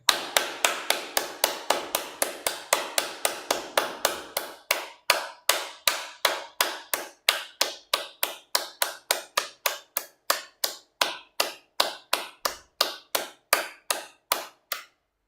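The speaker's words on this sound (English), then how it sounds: "So let's clap again." A group clapping in unison, a long steady run of sharp, evenly spaced claps that quicken slightly at first and continue for about fifteen seconds, loud and close.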